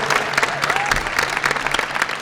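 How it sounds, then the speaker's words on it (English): An audience applauds a contestant at the close of a pitch in a national elevator pitch competition final round, steady dense clapping throughout at moderate loudness. "Let's give Alex a round of applause"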